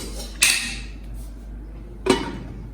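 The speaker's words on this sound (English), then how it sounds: "And you have to cover it with the lid." A metal lid set down over a pan of stuffed bread cooking on a slow flame, giving two sharp clanks about a second and a half apart against a low, steady background hum.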